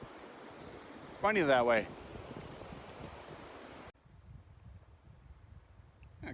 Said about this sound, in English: This river just gets stronger and stronger the more the more upstream you go.